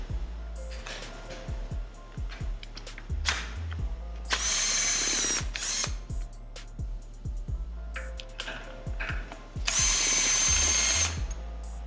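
A power tool gun loosens cylinder head bolts on a BMW M52B25TU engine in an E46: repeated rattling hammer bursts between short pauses, with two longer high-pitched whirring runs, close and loud.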